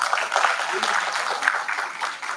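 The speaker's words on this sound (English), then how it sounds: "Let's give them a huge round of applause." Audience applause at a conference closing ceremony, a dense continuous clatter of many hands clapping throughout, loud and close, with a voice partly mixed in under the clapping.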